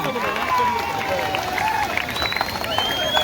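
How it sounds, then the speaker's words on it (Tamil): An audience applauds during a boxing competition prize presentation in Tambaram. Steady clapping and crowd noise continue throughout, with someone talking over it on a loudspeaker. "கைத்தட்டுங்க கைத்தட்டுங்க உற்சாகம் பண்ணுங்க"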